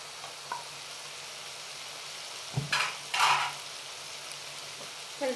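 Garlic frying in a pan: a quiet, steady kitchen hum broken by two short bursts of sizzling in the middle, with no talking.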